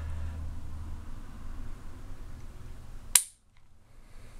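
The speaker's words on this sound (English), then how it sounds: "I'll go ahead and show you the trigger pull" A single sharp, loud dry-fire click comes from pulling the trigger on a Springfield Armory XDm 9mm Compact pistol. It follows a few seconds of quiet room noise and is followed by near silence.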